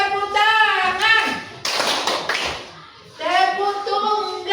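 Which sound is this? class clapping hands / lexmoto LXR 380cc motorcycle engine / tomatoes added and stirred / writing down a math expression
class clapping hands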